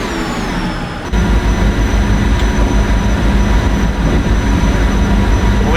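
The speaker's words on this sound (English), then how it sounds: "this is a really, really fast train." PRR V2 Santa Fe Express train running at high speed, a loud, steady roar of wheels and rushing air with no break, heard close up without any talking.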